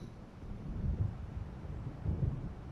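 Low rumbling thunder from an approaching storm in the video game Alan Wake Remastered, a steady dull roll with two swelling peaks over wind-like noise, with no talk.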